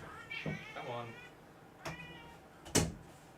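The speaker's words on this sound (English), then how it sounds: "I got to let my cat in." A pet cat meows a few times at a door it wants opened, the calls rising and falling in short bursts, followed by a couple of sharp knocks or scratches against the door, close and fairly loud.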